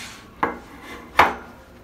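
A cooking pot set out for brewing an aloe vera drink gives two sharp clanks about three quarters of a second apart, close and fairly loud against a quiet room.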